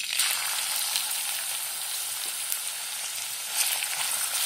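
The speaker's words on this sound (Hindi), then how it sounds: "प्याज का कलर बदलने तक उसे अच्छे से भून लेंगे।" Onions sizzle and fry in two tablespoons of hot oil in a kadhai for pav bhaji, giving a steady bright crackle with occasional louder pops and stirring, close and continuous throughout, with no talking.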